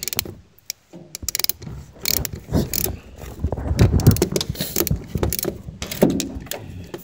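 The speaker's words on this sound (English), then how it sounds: "I use a swivel socket." A ratchet with a swivel socket turning the adjuster bolt on a 2005 Nissan Quest, with quick clicking ratchet strokes and metallic rattles in irregular bursts, close and fairly loud.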